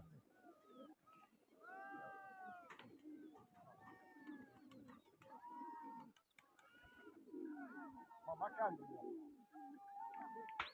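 Pigeons coo repeatedly in soft, rolling calls, several birds overlapping at close to moderate distance, while people talk in the background throughout.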